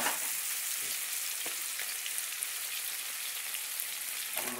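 Steak, mushrooms and onions frying in a pan, giving a steady, close, hissing sizzle with faint crackles throughout.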